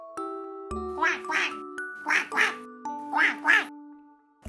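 A duck quacks in three quick pairs, close and clear, over a soft background of sustained tones and light tinkling.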